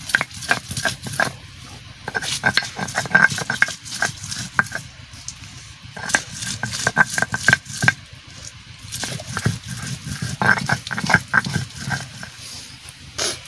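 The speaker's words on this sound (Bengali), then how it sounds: "পেঁয়াজ একসাথে বেটে নিচ্ছি" Onion paste being ground on a grinding stone while cooking sour dal with drumsticks and mango, a rough rhythmic scraping and knocking that repeats in bursts throughout, close and moderately loud with no talk.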